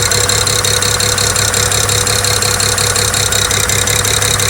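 A BMW 335i engine idles roughly with its number 6 fuel injector unplugged, giving a steady, uneven, lumpy chug with a persistent ticking pulse, loud and close, with no voices.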